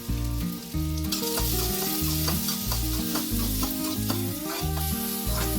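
Onions frying in oil in a pan for a stuffed bread egg toast, steady loud sizzling with repeated scraping stirs, no talk.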